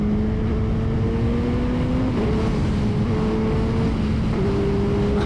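A Suzuki Hayabusa motorcycle engine drones steadily at close range. Its pitch dips and stutters in small steps, as if the power cuts out on reacceleration, under continuous wind and road noise.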